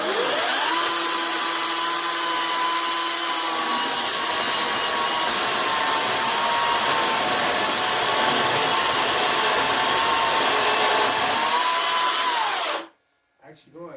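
A 16 inch chainsaw roars steadily while carving wood, holding a loud, continuous cutting whine for about twelve seconds before it abruptly cuts out into near silence.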